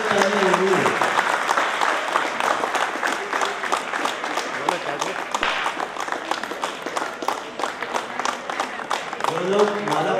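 Audience applause at a Republic Day celebration held by Nepal Telecom, a steady wash of clapping from a crowd running throughout, with a voice speaking at the start and end.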